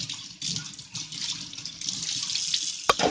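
A sponge rinsed under a running kitchen tap while cleaning a Fridja f1900 juicer, water gushing steadily and close with splashy fluctuations and a brief knock near the end.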